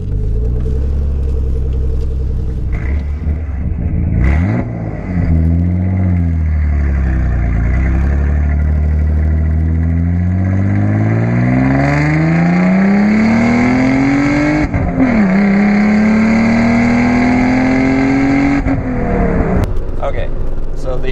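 Nissan 300ZX twin turbo, a 1992 car, accelerating hard with a loud rising engine note that climbs through gear changes and continues close to the microphone for about twenty seconds.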